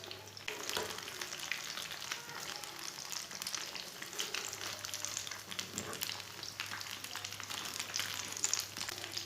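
Aloo tikki potato patties fry in a pan with a soft, continuous crackle and sizzle that stays fairly quiet and close, with a faint low hum underneath.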